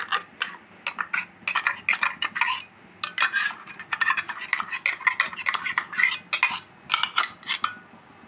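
Ground roasted coconut being stirred into a pot of chicken curry, a utensil scraping and clinking against the pot in quick repeated bursts, close and fairly loud with no talking.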